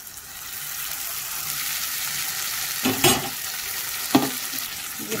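A paste of ginger, garlic, onion and chilli sizzles steadily in hot oil with fried onions, and two brief scraping stirs rise above the continuous frying hiss.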